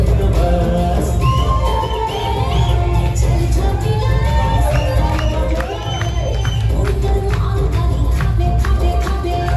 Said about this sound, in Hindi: जोरदार ताली संगवारी हो दीपक भाई